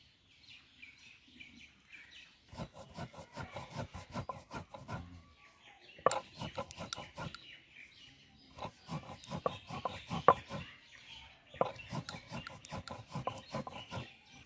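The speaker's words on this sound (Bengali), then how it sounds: "প্রথমে চাল আমি শেল নোড়ায় গুঁড়ো করে নেবো" Raw rice being ground on a stone slab with a grinding stone, producing bursts of rapid, close scraping strokes separated by short pauses, with birds chirping faintly in the background.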